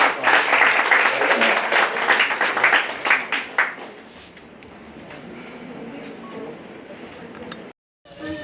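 A crowd claps loudly and densely at an indoor ceremony honoring 26 torture survivors undergoing rehabilitation. The applause fades after a few seconds into quieter room noise, then briefly drops out.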